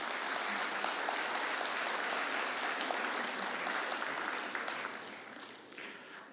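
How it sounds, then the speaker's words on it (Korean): A church congregation applauds warmly during a Sunday worship service, a steady wash of many hands clapping that holds for several seconds, then thins and fades toward the end. "한번 뜨거운 박수로 격려하겠습니다"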